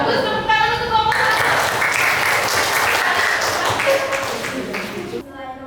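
An audience claps for a speaker at a teacher-training session, a short burst of applause lasting a few seconds that begins after a voice and tapers off as speech returns.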